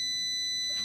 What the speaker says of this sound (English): This high-pitched noise is coming from this, a tiny electronic speaker, also called a piezo speaker.